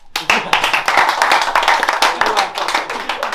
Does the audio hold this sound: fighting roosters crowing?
no